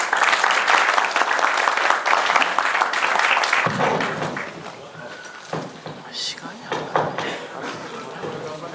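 An audience at an evening rally claps for a workers' song group, a full burst of applause that fades after a few seconds into scattered claps, murmurs and nearby voices.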